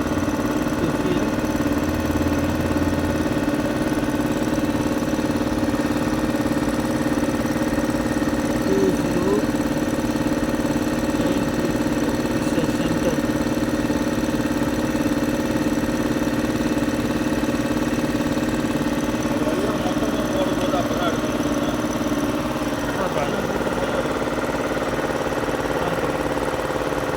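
A wheel loader's GSC 6BT diesel engine idles steadily, a loud, even low hum with constant vibration close to the microphone, unbroken for nearly half a minute, with no talking.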